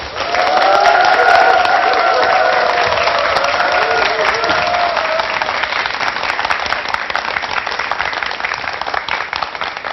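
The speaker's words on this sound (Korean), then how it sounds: "여러분 큰 박수로 김성희 교수님을 모시겠습니다." A large audience at a televised lecture claps steadily to welcome a family communication professor, a dense, even wall of applause lasting throughout, with a tonal musical line and some cheering over the first half.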